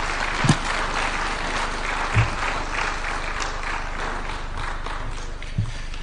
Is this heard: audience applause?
yes